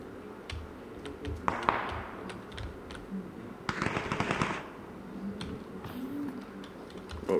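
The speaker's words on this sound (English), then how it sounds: "They shoot each other." Gunfire in PUBG (PlayerUnknown's Battlegrounds), scattered single cracks and short bursts at mid distance, with a denser volley near the middle, over quiet background ambience.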